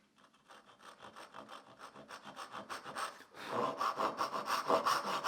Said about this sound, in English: I'm now going to be sawing waist side the line